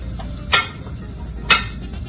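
Garlic and spices fry for a tamarind anchar under a soft, even sizzle, and two sharp utensil knocks against the pan ring out about a second apart.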